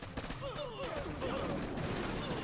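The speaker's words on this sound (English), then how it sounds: "Mortars are wrecking things." Amped mortars fire in the mobile strategy game Boom Beach, a dense run of overlapping blasts and impacts that goes on without a break through a busy battle. No one speaks.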